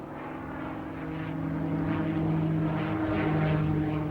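Piston engine of a P-51 Mustang propeller fighter plane drones steadily with a sustained low harmonic hum, growing slightly louder and nearer over the few seconds, with no voices.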